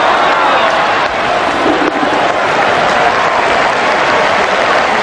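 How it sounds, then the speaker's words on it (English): A capacity cricket crowd at Eden Park applauds during the 1992 World Cup semi-final between Pakistan and New Zealand, making a loud, dense, steady roar of clapping and cheering that fills the whole stretch. "There's certainly plenty of atmosphere here at Eden Park this afternoon. It's a capacity crowd"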